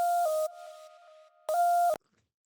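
A synthesized counter melody from an FL Studio beat plays dry, without the ShaperBox effect: two bright electronic tones held steady, a short burst, a softer sustained stretch, then another loud burst that cuts off to silence.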